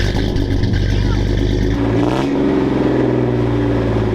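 A Chevy truck engine with a newly built exhaust runs loud and close, revving up and then settling into a heavy, rumbling roar that continues to the end.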